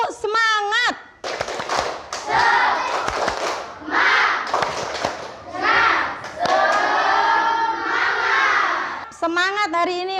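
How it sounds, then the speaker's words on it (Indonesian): A school class performs the 'tepuk semangat' rhythmic clap, sharp patterned hand claps mixed with children's chanting voices, loud and close, starting and ending with a teacher's voice. "Nah, kita tepuk ya dulu. Tepuk semangat."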